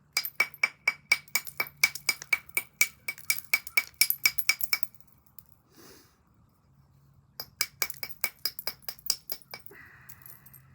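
Sharp, ringing clinks of Tallahatta quartzite being knapped come in a rapid, regular series of close strikes, pause briefly, then resume in another quick run.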